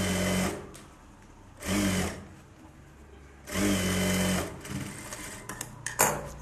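A sewing machine stitches the edge of a Bharatanatyam dance dress, running in three short, close-up bursts of whirring hum separated by pauses, with light handling noises near the end.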